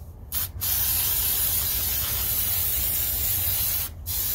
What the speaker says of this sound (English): we're going to go ahead and spray this now